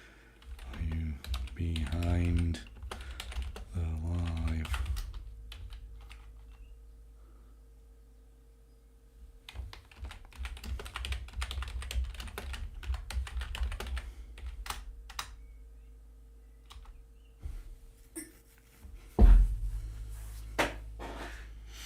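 Typing on a computer keyboard in a studio: bursts of light key clicks come in short runs between pauses, fairly faint, with people talking at the start.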